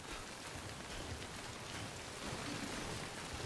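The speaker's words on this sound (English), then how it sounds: "Oh, it's starting to rain." Rain falling in the video game Death Stranding, a faint, even hiss of drops on surfaces that swells slightly toward the end and carries no voices.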